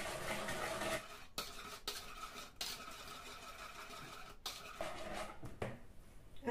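Sugar being stirred into banana bread batter in a bowl: a utensil scrapes and knocks against the bowl in repeated broad strokes, with brief pauses between bursts and no one talking.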